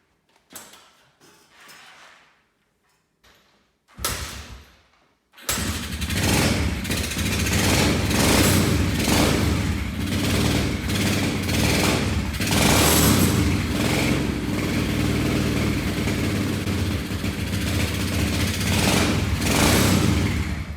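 A Kawasaki KLX110 dirt bike engine, freshly rebuilt at the top end, sputters through a few quiet attempts and then fires up into a loud, close, steady popping rattle.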